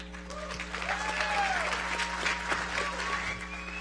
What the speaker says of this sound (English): A big round of applause for your first place finishers